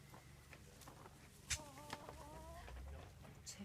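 Chickens at a farm animal sanctuary cluck in short repeated calls, fairly near, over a background of low rumbling noise and brief bumps.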